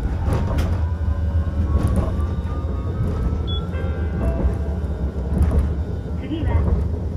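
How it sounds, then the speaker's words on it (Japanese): A Hiroshima Electric Railway 1000-series Green Mover LEX three-section low-floor tram pulls away on Line 1, with a low rumbling drive and motor hum, faint whining tones and scattered clanks, under steady onboard noise. "電車が動きます。"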